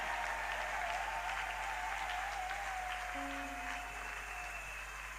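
A church congregation at Cité Béthel applauds in a continuous dense wash of clapping that stays steady and fairly loud throughout, with crowd murmur underneath and a faint tonal hum in the background.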